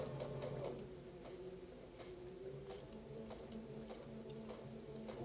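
Sewing machine stitching pieced quilt fabric right across a seam intersection, a steady close mechanical whir with faint regular ticking throughout, no voices.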